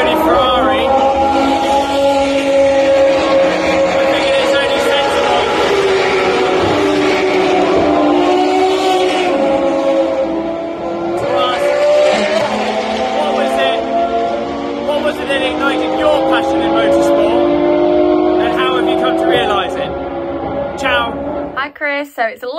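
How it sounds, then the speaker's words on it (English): Ferrari V12 LaFerrari XX race cars circle a track, their engines a loud, continuous rising and falling drone that sits in the background beneath people talking nearby. "we've got some nice V12 LaFerrari XX going round"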